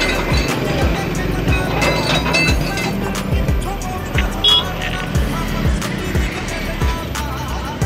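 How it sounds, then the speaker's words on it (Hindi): Busy town road traffic near a trade fair, recorded from a moving scooter: a steady, loud wash of engines and road noise with clinks and passing vehicles throughout. "यहाँ ट्रैफिक लगा है"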